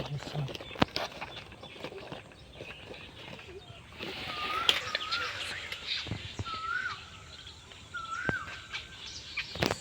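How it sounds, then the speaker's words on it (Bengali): An Asian koel calls in rural countryside among other birds, its brief rising notes fairly distant amid crow-like caws and chirps, while people talk intermittently over the outdoor ambience. "কোকিলের আওয়াজ শুনতে পাচ্ছ?"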